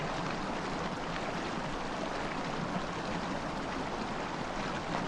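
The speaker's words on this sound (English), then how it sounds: "There's the huge waterfall to the side of us here." Huge waterfall in Lord of the Rings Online giving a steady, soft broadband rush of falling water, continuous and even throughout with no voices.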